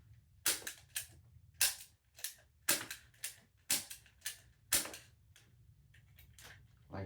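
Realistic Nerf shotgun firing in a series of sharp, clacking plastic shots, roughly a dozen in irregular rhythm, some strokes sounding weaker where the blaster fails to fire, close and loud over a faint low hum.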